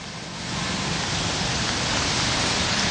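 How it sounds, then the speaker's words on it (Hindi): Heavy rain pours down in Mumbai, a dense, even hiss that swells over the first half second and then holds steady and loud, with no voices. "कुछ ही घंटों की बारिश हुई है"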